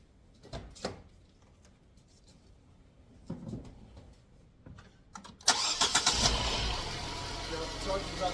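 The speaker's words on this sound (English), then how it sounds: "So we're going to start the car." A car engine cranks and catches after being jump-started with a UIBI portable jump starter, running loud and steady at idle for several seconds following a few quieter clicks and handling sounds.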